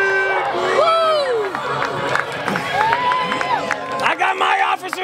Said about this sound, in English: We'll get everybody cheering